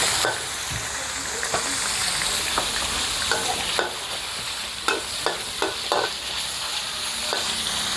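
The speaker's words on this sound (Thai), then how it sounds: "ใส่หมูเด็ดเดียวลงไปผัดให้สุกนะคะ ต้องให้น้ำมันร้อนๆนะคะ" Sun-dried pork stir-fried in hot oil in a wok, with a steady sizzling hiss and repeated sharp scraping clicks of a spatula stirring throughout.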